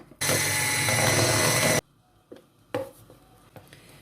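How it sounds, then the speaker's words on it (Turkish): An electric mixer beats eggs, sugar and baking powder into a batter for an ekmek kadayıfı dessert, whirring loud and steady for under two seconds before cutting off, followed by a few faint clicks and knocks. "Mikserimin kapağını kapatıp bunları tekrar karıştıracağım."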